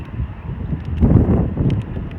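Low, gusty wind buffets the microphone, swelling to a rumbling burst midway before settling back down.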